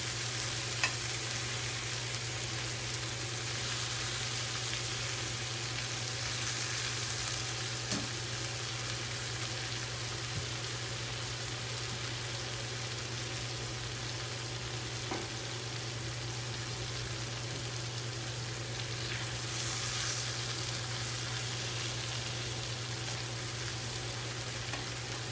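Jambalaya ingredients sear gently in hot fat on a stovetop, a steady dense sizzle running unbroken for the whole stretch with faint stirring scrapes, close and even, no voices.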